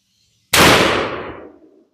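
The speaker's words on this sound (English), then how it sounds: "we're going to shoot this Grendel here." A single sharp rifle shot from a 6.5 Grendel carbine fired at a 60-yard range while sighting in for deer season, loud and close, with a broad blast that fades into a short outdoor echo over about a second.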